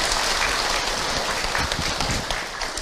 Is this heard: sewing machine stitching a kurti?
no